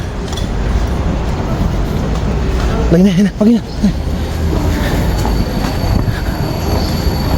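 A train arriving at a station in Daejeon, South Korea, rumbles heavily nearby, with a brief high metallic wheel squeal partway through, over steady rolling noise.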